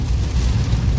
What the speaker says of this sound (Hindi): टप टप की आवाज आ रही होगी, शीशे में पड़ रही है ना, और तेज होती जा रही है